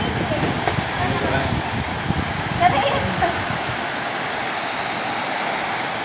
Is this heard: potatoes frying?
no